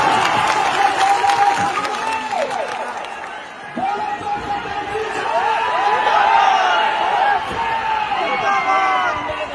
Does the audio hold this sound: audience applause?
yes